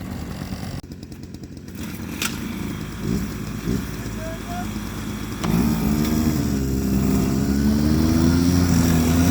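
Arctic Cat Norseman snowmobile engine idling while its idle is adjusted, a close rough droning hum that shifts and rises in pitch partway through as the idle is changed, with people talking over it.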